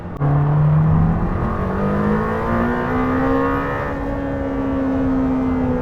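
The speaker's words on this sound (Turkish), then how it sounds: "Düzlükte son gaz yapıyoruz." A Lamborghini Temerario sports car accelerates at full throttle down the straight of a Formula 1 circuit, its engine note loud and close, rising steadily in pitch through the revs as one continuous roar.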